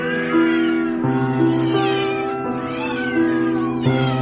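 Several cats meow and yowl in overlapping, drawn-out cries at a shelter for street cats in Parung, close and loud with no talking.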